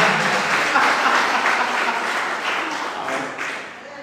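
A church congregation breaks into applause during a Pentecostal sermon, a broad wash of clapping that swells early, holds steady, then fades toward the end.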